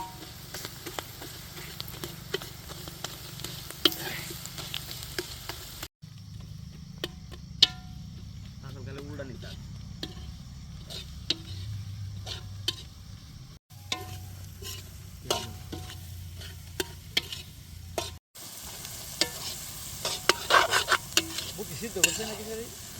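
Potatoes fry in a pan with turmeric and chili powder while being stirred, giving a continuous close sizzle broken by repeated scraping stirs and a few brief pauses between takes.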